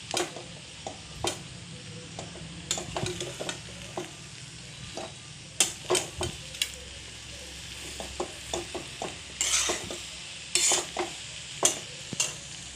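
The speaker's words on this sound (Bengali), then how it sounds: "এবার নেড়ে ছেড়ে চারিদিকে ঘিগুলো গলে চারিদিকে হয়ে যাবে" A spoon stirs egg chow frying in melted ghee in a pan, giving close, irregular scraping and clacking strokes over a soft, steady sizzle, with no voices.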